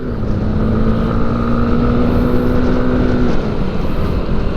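A 2021 Honda CB150R Gen-4 motorcycle with a square engine runs under throttle on the road, giving a steady, loud engine drone with a held tonal hum, buffeted by wind noise throughout.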